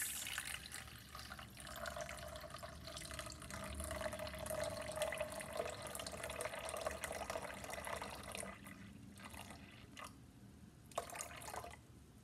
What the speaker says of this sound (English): And for our liquid, we are going to use some aloe vera.